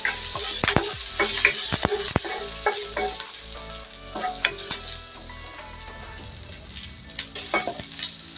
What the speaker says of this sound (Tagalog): Maglagay lang tayo ng kunting mantika sa kawali. Lagay lang natin yung sibuyas.